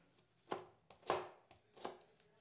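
A knife chopping a pear for fruit chaat, three distinct soft thuds on a cutting board spaced about half a second apart, quiet and close.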